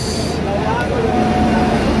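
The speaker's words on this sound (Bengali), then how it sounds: "ওই দেখো ঢুকছে আমাদের ট্রেন উত্তরবঙ্গ এক্সপ্রেস" The Uttar Banga Express rolls into a station platform, a continuous low rumble of wheels and carriages with faint squeals under steady crowd noise.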